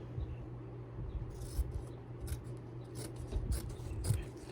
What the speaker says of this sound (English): so I want to trim this fabric again.